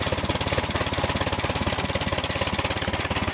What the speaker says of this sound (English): And that's idling right there.